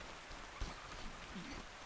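Rain falls steadily in a dinosaur survival video game, a soft, even hiss of drops on the ground, fairly quiet and continuous with a faint thump near the start.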